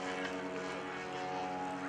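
A radio-controlled model Super Cub airplane flies at an airshow, its small engine giving a steady, buzzing drone with harmonic whine, moderately distant and continuous for a couple of seconds.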